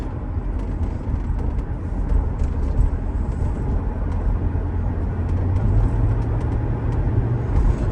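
A 2005 Mercedes SL500 on worn, low-traction tires cruises steadily, its engine and road rumble a continuous loud drone heard from inside the car, with no talk over it.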